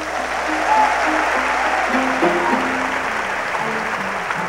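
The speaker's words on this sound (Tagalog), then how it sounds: "Palakpak." A church congregation claps together in a sustained burst of applause, dense and fairly loud, with a low organ or keyboard tone held underneath and a few scattered voices.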